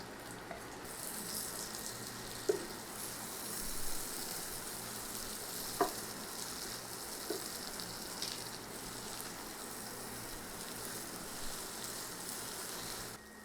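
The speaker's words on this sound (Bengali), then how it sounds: "আপনি 2 মিনিট একটুখানি তেলের মধ্যে মানে পেঁয়াজ রসুনের মধ্যে একটু ভেজে নেবেন ভেন্ডিটাকে" Okra frying briefly in oil with onion and garlic in a pan makes a soft, steady sizzle, with a few faint clicks and taps scattered through it and no voices.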